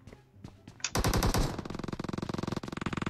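Rapid automatic gunfire in PUBG Mobile, a loud sustained burst of evenly spaced shots after a few scattered sounds, continuing steadily to the end with no talking.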